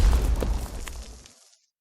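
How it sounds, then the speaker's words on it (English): Artillery bombardment in the strategy game Strategic Mind: Spectre of Communism, a single loud, close booming blast that rumbles briefly and fades out within about a second and a half, no talking. "Begin the bombardment."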